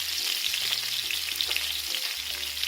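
Sirloin steak frying in a de Buyer iron pan as butter is spooned over it, a bright continuous sizzle up close with soft low clinks of basting beneath, no voices.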